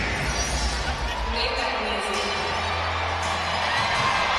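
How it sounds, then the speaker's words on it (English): A Detroit crowd at a boxing match roars in a dense, continuous wall of cheering and shouting, with a voice talking over the din. "There's no crowd like a Detroit crowd, I'll tell you that right now"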